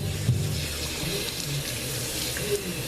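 Tap water running steadily while conditioner is rinsed out of curly hair at home, a continuous close splashing hiss with no speech over it.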